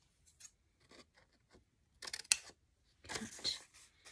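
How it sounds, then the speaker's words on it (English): Scissors snipping a book page to make an envelope pocket: a few faint small snips, then two louder close cutting and paper-rustling bursts in a quiet room. "cut from the side down to the corner of the fold, so it looks like that"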